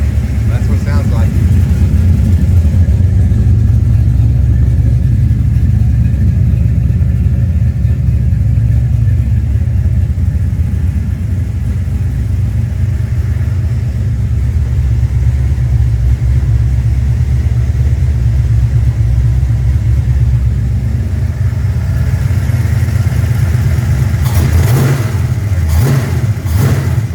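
A car engine idles with a deep, steady, loud rumble and rises in brief revs near the end, heard close up with talking over it.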